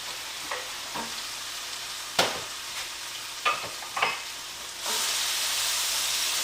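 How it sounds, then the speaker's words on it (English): Mushrooms frying with shallots in a pan, with soft sizzling under scattered stirring clatters and short scrapes, building to a steady louder sizzle near the end. "Now I'm going to go ahead and add some mushrooms."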